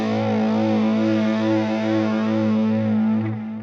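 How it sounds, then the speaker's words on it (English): An electric guitar played through a Boss BE-5 multi-effects unit with all four effects engaged rings out a sustained, distorted chord thick with chorus shimmer, loud and close with no talk, fading slightly at the end. "we've got all 4 effects on now, and I think this is a cracking sound that you get out of it"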